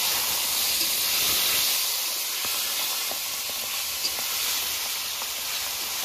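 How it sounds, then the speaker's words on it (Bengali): Pabda fish stirred in hot oil for a Bengali oil-chilli curry makes a loud, steady hiss and sizzle with faint scraping underneath that continues throughout, with no voices. "মাছটা একটু নেড়ে চেড়ে নিয়েছি, এবার জল দিয়ে দেবো।"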